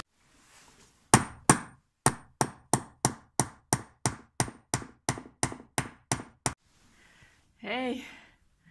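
Hammer blows banging on a workpiece, about fifteen sharp, loud, evenly spaced strikes close by, followed by a brief voice after the last hit.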